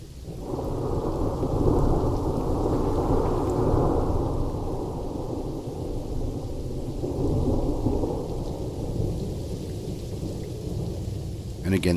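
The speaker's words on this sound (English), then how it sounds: "There's really heavy rain." Heavy torrential rain pours down in a constant, dense roar, with deep rumbling swells beneath it that rise and fall over the full length.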